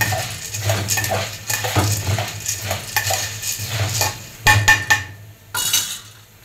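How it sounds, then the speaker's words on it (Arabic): Spoon scraping and clinking against a pan while vermicelli pasta fries and browns, with a faint sizzle underneath and irregular close stirring strokes. "هنا المكرونه اهي داخله على التحمير عشان نضيف لها الرز"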